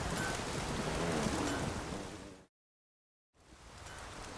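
Rain falling in the video game The Witcher 3: Wild Hunt, a steady, dense hiss of drops that cuts out to complete silence for about a second before resuming.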